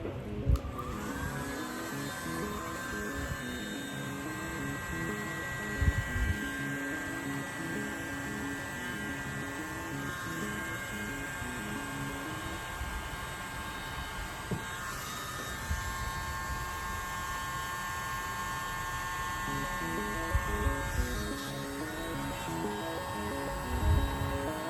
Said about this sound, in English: my little mini lawn blower